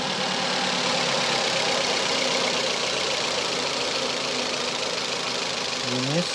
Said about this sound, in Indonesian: Suara mesin sangat-sangat menjanjikan.